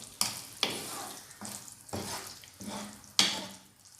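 A spoon or spatula stirs chilli chicken sauce with pepper and sugar in a pan on a low flame, making a handful of sharp scraping strokes over a soft sizzle, with no talk.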